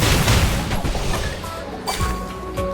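A barrage attack in the video game Reverse: 1999 unleashes a loud, dense volley of booming impacts and crashing blasts that rumble continuously for a few seconds.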